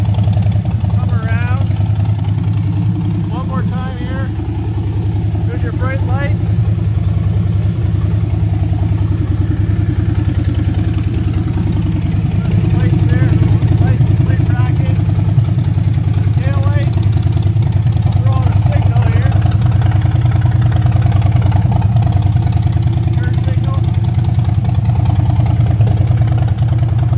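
A 2020 Harley-Davidson Street Bob with the M8 107 engine and Stage 1 pipes runs steadily close by, a deep continuous rumble that stays loud throughout, with someone talking over it.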